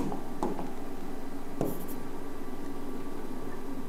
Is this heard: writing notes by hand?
yes